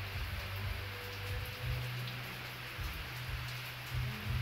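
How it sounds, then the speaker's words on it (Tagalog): Steady rain during a typhoon, a dense even hiss with low rumbling swells underneath, continuous and fairly close, no voices. "May bagyo po."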